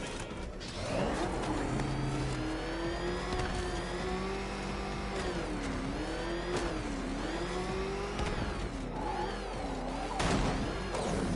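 The Batmobile's engine in Batman Arkham Knight revs and accelerates, a loud, close whine that rises and falls in pitch through repeated surges, with a brief low tone underneath early on.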